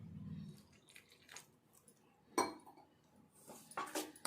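Soaked semolina batter being stirred in a bowl: intermittent wet squishes and light clinks of a spoon against the bowl, close up, with no talking.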